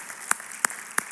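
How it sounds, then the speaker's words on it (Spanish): Three sharp, evenly spaced claps from a church congregation during a worship service, crisp and close over a soft background wash of applause. "Denle un aplauso al Señor"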